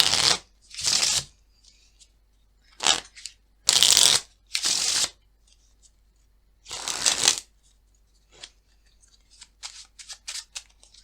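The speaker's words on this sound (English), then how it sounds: "I want you to go ahead and shuffle the cards" A deck of playing cards is shuffled in close, crisp bursts, several riffles with short pauses between them, followed by lighter scattered flicks and taps of the cards.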